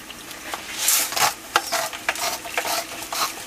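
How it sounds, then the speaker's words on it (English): Homemade tomato sauce from fresh tomatoes stirred in a pot, soft scraping strokes with a faint bubbling sizzle beneath, close and alone. "Make sure that it doesn't burn. Stir it up."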